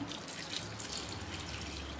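Half a glass of water poured into a pressure cooker full of vegetables gives a faint, steady trickle and splash lasting about two seconds, with no talk.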